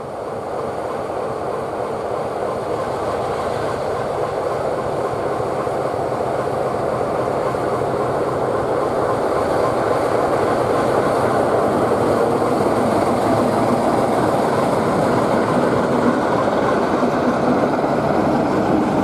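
The Class 44 Peak diesel locomotive D8 Penyghent rumbles past at a heritage railway diesel gala, a loud, sustained engine and wheel roar that builds slightly and holds steady throughout, with no talking.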